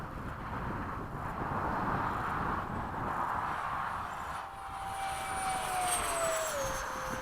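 A Freewing 70mm EDF F-35 RC jet flies overhead with a continuous ducted-fan rush and a whine whose pitch falls as it passes, at a moderate distance.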